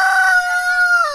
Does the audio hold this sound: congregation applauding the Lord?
no